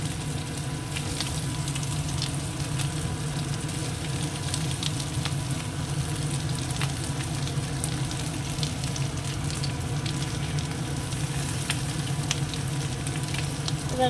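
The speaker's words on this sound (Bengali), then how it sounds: "একটু ভেজে নিই সঙ্গে এই যে একটুখানি ভেজে নিলাম হালকা" Potatoes fry steadily in a pan, a continuous even sizzle and crackle with no pauses, close and fairly loud.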